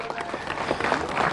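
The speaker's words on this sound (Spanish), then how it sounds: "un fuerte aplauso también" Audience applause at a ceremony in Tarija handing over 48 houses to families, steady dense clapping at moderate distance, with a few voices mixed in.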